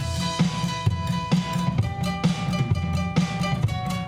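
Electric guitar plays a repeated A octave figure with a deliberately dissonant string bend, steady rhythmic picked notes ringing up close with no talking.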